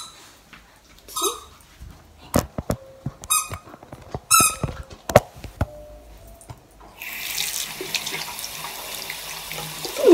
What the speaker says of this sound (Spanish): Vamos a poner un poquito de agua fría.